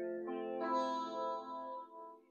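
Guitar playing the intro riff of a song: a short stepping-down run of plucked notes that ring together and fade, quiet and close, with no talking.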